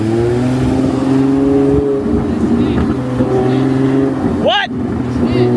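Ferrari 812 GTS engine running loud and steady with a deep, layered rumble and a brief rising rev sweep near the end, heard close up.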